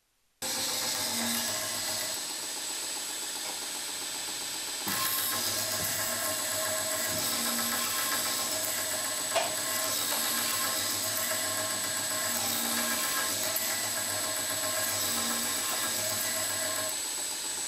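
Machines run steadily in a small tool-sharpening workshop, a loud continuous mechanical drone with grinding tones that shift in pitch, starting abruptly after a brief silence and holding throughout with a slight change midway.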